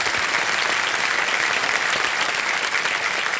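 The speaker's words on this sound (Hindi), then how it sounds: "एक बार तालियां बज जाए अमित सिन्हा जी के लिए।" Studio audience on the Kaun Banega Crorepati quiz show applauding a contestant as he quits the game, a dense, loud, continuous burst of clapping throughout.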